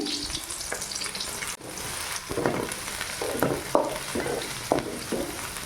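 Sliced onion and capsicum fry in hot oil for egg rice, with a steady close sizzle and occasional stirring scrapes that rise and fall over several seconds.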